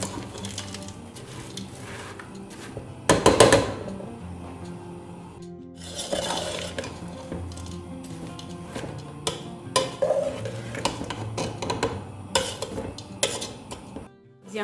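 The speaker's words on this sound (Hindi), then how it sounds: "पहले हम सब्जियां फ्राई कर लें।" Vegetables frying in a pan while being cooked for chicken and vegetable macaroni, heard as steady sizzling mixed with scraping stirs and metal clatter of utensil against pan, with a louder burst of clanking near the start.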